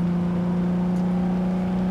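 A car in Cyberpunk drives along with a steady engine hum and a faint rising whir, continuous and fairly loud from start to end with no voices over it.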